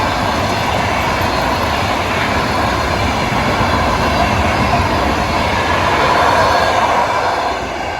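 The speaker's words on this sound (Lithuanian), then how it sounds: "traukinių eismas viens po kito, tik tai vienas pravažiavo, kitas atalakė" Train rolling past on a railway line, a loud continuous rumble with wheel and wagon noise sustained throughout, close by and steady before easing slightly at the end.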